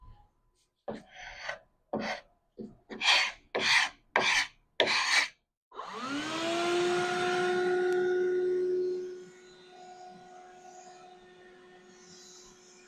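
Rough, rasping strokes of a portable sanding block on a wooden mid-century modern furniture piece in a quick series of about eight, followed by a longer sustained tonal hum that fades out.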